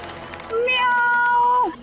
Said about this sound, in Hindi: ओहो बिल्ली है।